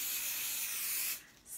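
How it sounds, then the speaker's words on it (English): A steady, hissing spray of adhesive onto thin poly-cotton quilt batting, held for about a second, then a brief pause and a short second burst, close by. "So I'm just going to quickly"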